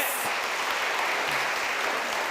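Steady applause from the audience at an international film festival award ceremony, a continuous even wash of clapping heard from a distance.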